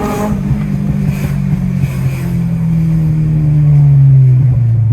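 A 250 bhp Honda Civic Type R EP3 on the move produces a loud, close engine note that holds steady and then sags in pitch as the revs fall, with faint crackles that could be exhaust pops.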